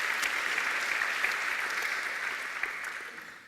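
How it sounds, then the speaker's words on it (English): Audience applause for a speaker at a startup event, dense even clapping from a crowd that holds steady and then slowly fades toward the end, with no speech. "Can we give her a round of applause"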